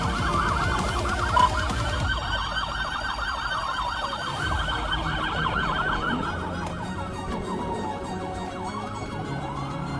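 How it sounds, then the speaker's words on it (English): Police car sirens wail and yelp during a truck chase, loud and continuous, with sweeping tones shifting pattern several times amid traffic noise. "amid sirens blaring and debris flying everywhere"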